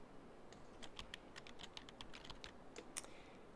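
Someone types on a computer keyboard: a quick run of light, crisp key taps in an irregular rhythm for a few seconds, close but faint, over a soft steady background hiss.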